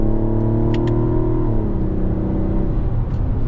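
A 2024 Mazda CX-90 three-row SUV in sport mode holds a steady, loud engine drone with rising harmonics through a paddle-shifted gear, dipping slightly midway before continuing under road noise.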